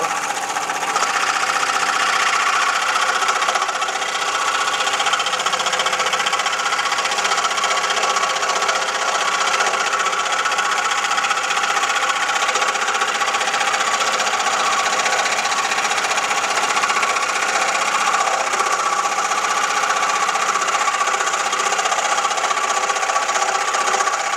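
A scroll saw runs steadily for the whole stretch, its motor buzzing with a fast, even rattle and no pauses.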